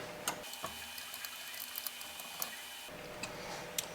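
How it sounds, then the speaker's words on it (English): Metal Allen wrenches tighten screws during assembly of a Longer LK5 Pro 3D printer, giving a few sparse, faint ticks and clicks close by over a steady low hum. "now I'm going to use the included Allen wrenches to snug it up"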